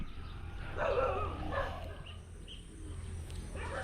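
Barking from a dog that seems to be a stray outdoors comes in a few short bursts at a moderate distance, over steady outdoor background noise in a garden, with birds faintly present.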